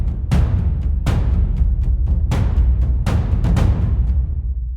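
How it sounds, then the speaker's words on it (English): A low drum in a layered percussion arrangement strikes deep, booming hits in a slow, repeating pattern, about six hits with sustained resonance ringing between them, loud and close with no voices. "We're going to keep the low drum the same"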